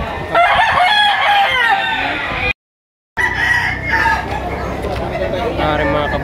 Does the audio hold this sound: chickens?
yes